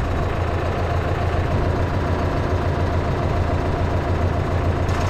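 A farm tractor idling close by, a steady low diesel rumble with an even mechanical throb that holds unchanged throughout.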